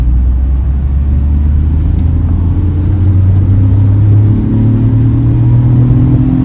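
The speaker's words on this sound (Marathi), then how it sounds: "जर मी एकदम एक्सिलेट केलं ना की हे डाऊन शिफ्ट करतं गिअर." A 2025 Tata Tiago NRG CNG AMT facelift accelerating hard from inside the cabin, its engine droning loudly with rising pitch and a brief shift in tone as the automated gearbox downshifts, with no talking.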